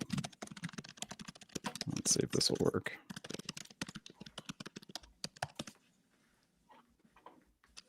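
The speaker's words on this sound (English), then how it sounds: "The most frantic typing I've ever overheard on a microphone." Rapid, frantic clatter of computer keyboard typing fills the first six seconds, dense and close, then thins to a few scattered keystrokes; someone speaks briefly over it.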